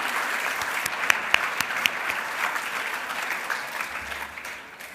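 Sustained applause rolls through the audience at the Research Australia Awards 2021 ceremony, a dense field of clapping with a few sharper claps near the start before it thins and fades toward the end.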